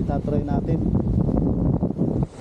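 Strong wind gusts buffet the microphone outdoors by trees at a fishing spot, a loud low roar that nearly covers someone speaking briefly.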